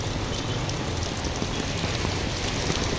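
Torrential rain falls in Recife, Pernambuco amid street flooding, a continuous loud wash of drops hitting water and ground, steady throughout with no speech.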